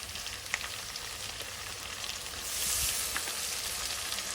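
Garlic paste hitting hot oil alongside frying onion and green chilli, a steady close sizzle with faint stirring ticks, swelling louder partway through as the paste cooks.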